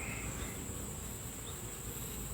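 Honey bees buzz steadily around an opened nuc hive during an inspection, a dense, continuous drone close by with no talking.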